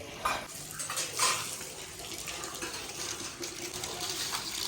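Metal pots and dishes clatter and scrape as they are scrubbed, with soft water sounds, fairly close and without talk.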